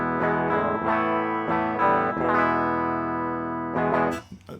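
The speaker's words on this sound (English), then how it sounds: "this is just the guitar going straight into the computer." Dry electric guitar recorded straight into a computer with no amp, clean bright notes and chords ringing out in a loose picked phrase, sustained tones with sharp attacks, fairly loud and alone.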